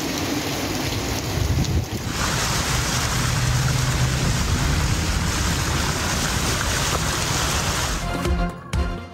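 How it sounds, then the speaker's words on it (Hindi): Torrential rain over Islamabad and Rawalpindi makes a dense, loud, unbroken roar that swells slightly and then cuts off abruptly near the end. "इस्लामाबाद और रावलपिंडी में मूसलाधार बारिश"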